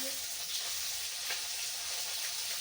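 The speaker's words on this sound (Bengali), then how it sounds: "আমি এই মাছগুলোকে ভেজে নিচ্ছি" Fish sizzle steadily in hot oil in a pan, a dense, close hiss that holds constant with faint stirring movement.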